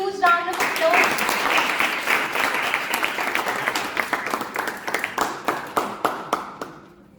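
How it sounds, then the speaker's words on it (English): A large audience at a storytelling competition claps loudly in a dense burst of applause that gradually thins into scattered, separate claps before fading out near the end. "Everyone, please give a huge round of applause."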